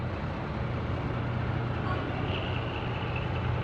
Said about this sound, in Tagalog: i-demo ko sa inyo kung paano kumambyo